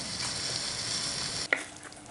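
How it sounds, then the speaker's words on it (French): Garlic sizzles in a little oil in a pan on the stove, a steady close frying hiss with a brief clink near the end. "J'ai mis de l'ail, ça y est, je vais le mettre sur le feu. Un tout petit peu d'huile"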